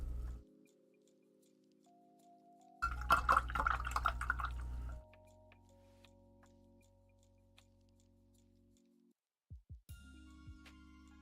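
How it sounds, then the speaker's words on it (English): A paint brush is rinsed in water, giving a couple of seconds of sloshing and dripping in the middle, set against steady low electronic hums and a few soft ticks. "Rinse this brush out really well."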